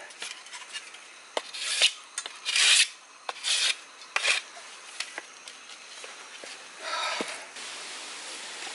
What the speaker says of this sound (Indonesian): ini saya haluskan dulu biar nggak tajam ya